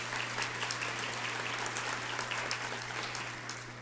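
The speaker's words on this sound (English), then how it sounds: "Please give them a round of applause." Convention audience applauding sponsors in a large hall, a steady, moderately distant patter of many hands clapping that holds throughout and eases slightly at the end, over a low constant hum.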